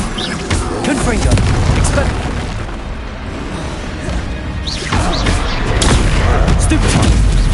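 Confringo fire-blast spells from the Hogwarts Legacy video game burst in a dense, loud run of booming explosions and crashes, layered over continuous game combat noise.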